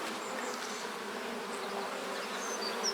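Honey bees buzzing steadily during a hive inspection for disease, a close continuous drone with individual bees whining past now and then, no voices.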